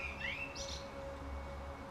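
A blackbird sings faintly at a distance, giving a few short, bright chirping phrases over a quiet, steady background hum during a calm home stretching and meditation session.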